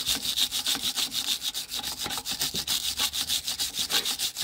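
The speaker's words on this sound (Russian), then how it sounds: "Сейчас зачищу здесь металлической щеткой по кругу" Metal wire brush scrubbed in circles over a rusty vehicle drive shaft near the carrier bearing, giving a steady run of fast rasping, scratchy strokes close by with no talking.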